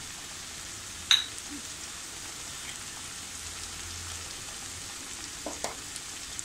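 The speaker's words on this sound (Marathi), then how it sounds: "हिंग, हे सुद्धा आपल्याला अगदी तेल सुटेपर्यंत छान असं परतून घ्यायचं आहे." Asafoetida and spices, including Kashmiri red chilli powder, fry in oil for a Malvani-style veg kurma. A soft, steady sizzling hiss runs throughout, with a sharp clink near the start and a few faint taps later.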